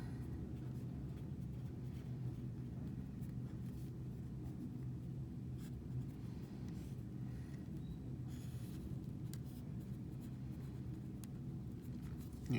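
Pen or pencil scratching steadily across paper while jotting handwritten notes during a geometry lesson on circles, a continuous close, soft scraping with no talk over it.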